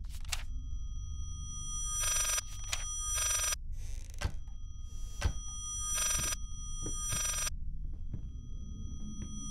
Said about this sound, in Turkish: Daha döndüğümüz zaman telefon açabileceğiz herhalde.